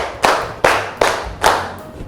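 Students in a class clap in unison during an ice-breaking counting game: four crisp, evenly spaced group claps, loud and near, and then a short pause, with no speech.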